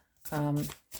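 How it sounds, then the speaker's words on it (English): A deck of oracle cards is shuffled in a short, soft burst of papery riffling close to the listener, with a brief voice sounding around it. "I'm going to shuffle, sorry for the noise"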